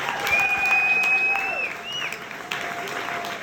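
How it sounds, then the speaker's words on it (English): A live crowd in Moncton applauds steadily as a full, dense round of clapping fills the space, with a few whistles cutting through and the noise holding up throughout. "So let's give a round of applause to you guys."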